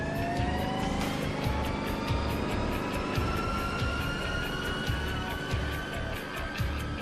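Small jet engines that together produce about 30 kN of thrust, starting up and running loudly, with rising whining tones over a steady roar that stays close and continuous.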